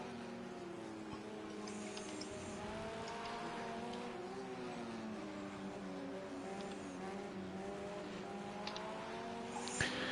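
Race car engine at a World Endurance Championship race gives a few throttle blips, its sustained, fairly loud drone rising and falling in pitch, with faint distant engine noise behind.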